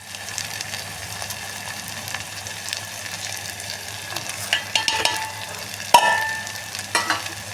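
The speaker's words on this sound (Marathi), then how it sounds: "आता सगळे हे सुके मसाले आपण त्याच्यामध्ये घालू" Dry spices being stirred into onions frying in ghee for masala dal khichdi: a soft, continuous sizzle with scattered light scrapes and a sharper clink near the end, close but fairly quiet, with no voices.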